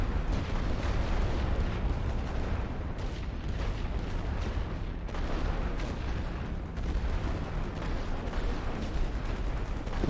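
Massed artillery in the First World War strategy game The Great War: Western Front pounds continuously as a dense, rumbling barrage of overlapping booms and blasts, loud and unbroken for ten seconds with no voices.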